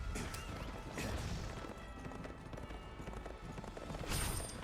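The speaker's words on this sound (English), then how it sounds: "the horse picks up speed as you start running, so you can really book it around the battlefield" Horse hooves pound in a fast run across a battlefield in Berserk and the Band of the Hawk, a busy rhythmic clatter mixed with crashes, impacts and a brief whinny, all dense and continuous.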